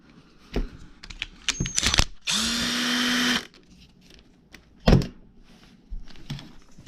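A small electric driver spins out bolts from a Traxxas UDR RC truck, one steady whirring burst of about a second amid scattered clicks and handling of parts, close and fairly quiet.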